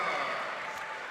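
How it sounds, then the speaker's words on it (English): Crowd roaring and cheering at a girls' basketball final after a layup, a dense, sustained wash of voices and applause filling the arena at steady loudness. "Alcazar, and the crowd goes wild"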